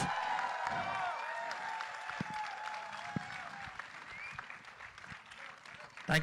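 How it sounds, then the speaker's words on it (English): A crowd at the teaser launch event for the Ramayana film applauds, a faint, distant wash of clapping and cheering heard beneath talk and room noise, with a few sharper claps standing out. "Come on everyone, a louder round of applause."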